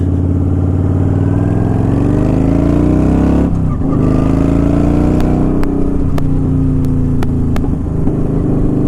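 A Kawasaki Vulcan 900 cruiser motorcycle is ridden with its engine droning loud and steady. Mid-clip it briefly dips, as if shifting, then pulls on with a steady hum.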